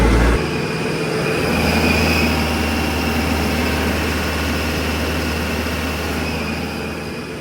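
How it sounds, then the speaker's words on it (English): A tractor engine held at maximum throttle while the hydraulic pressure is raised, giving a loud, steady, continuous roar with a deep low rumble that barely changes from start to finish, with no talking. "So let me go to max throttle and try it then."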